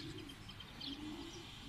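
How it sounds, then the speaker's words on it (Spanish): Homing pigeons coo softly in a loft, low murmuring calls overlapping steadily with faint background noise and no talking. "Palomas muy bonitas."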